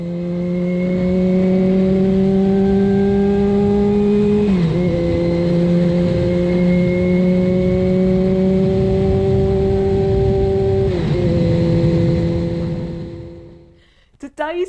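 A vehicle engine drones loudly and steadily on a ride along the A3083 from RNAS Culdrose to Lizard Point, shifting pitch twice before fading out at the end.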